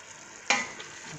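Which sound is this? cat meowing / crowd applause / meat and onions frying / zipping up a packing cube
meat and onions frying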